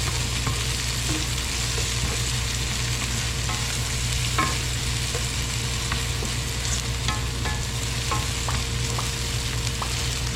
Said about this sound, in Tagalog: Gigisahin lamang po natin ito hanggang sa hindi na po mukhang sariwa itong ating sibuyas at bawang.